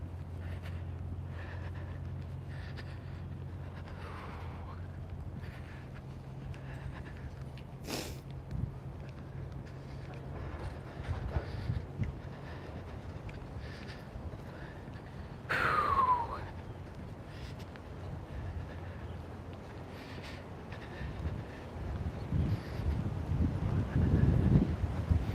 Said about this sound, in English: That's some powerful wind we got going on right now.